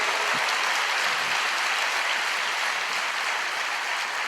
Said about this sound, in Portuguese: você pode aplaudir o Senhor aí?